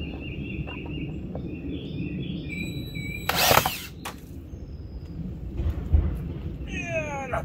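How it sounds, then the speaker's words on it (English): An electric screwdriver drives heavy-duty screws in one brief, close, buzzing whir that lasts under half a second. Before and after it there is a quiet outdoor background with a few bird chirps. "I want to use the electric screwdriver instead of a manual screwdriver, because it's just a lot of work for these heavy-duty screws"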